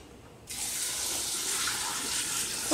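Tap water gushes steadily into a couscous pot holding carrots and garbanzo beans, starting abruptly and running as a loud, continuous splashing stream throughout.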